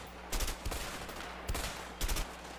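Bursts of gunfire in the co-op prison-escape game A Way Out during a Mexican shootout: three or four loud, sharp volleys separated by short pauses, close and dominant.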